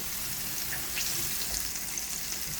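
Oyster mushrooms frying in a pan, giving a steady, close, continuous sizzle with faint crackles and no talking over it.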